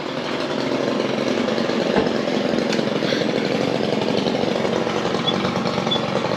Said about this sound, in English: My favorite trimmer, the 90R.